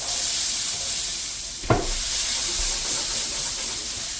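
Potatoes fry in hot olive oil in a pan, giving a steady, close sizzle and hiss with one brief clack partway through.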